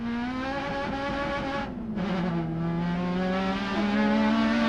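An onboard touring car engine at a Road Atlanta race start holds loud, steady high revs that sag briefly and then climb back toward the limiter, with no talk over it.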